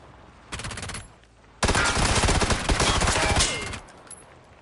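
Rapid automatic gunfire from a video game weapon: a short burst, a pause, then a longer sustained rattle of close, loud shots.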